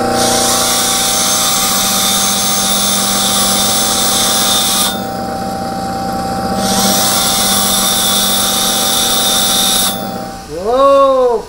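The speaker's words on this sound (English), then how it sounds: "screw up a tungsten, I can just go resharpen it real quick" A bench grinder sharpens a TIG welding tungsten electrode with a steady, loud high whine that carries on for about ten seconds with one short dip, then winds down at the end.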